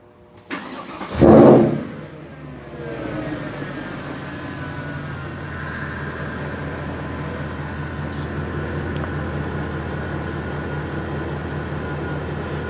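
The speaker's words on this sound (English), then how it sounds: "Now we need to start the engine." A Porsche Panamera with a PDK gearbox cranks briefly and starts, then settles into a steady, close idle hum that continues for several seconds.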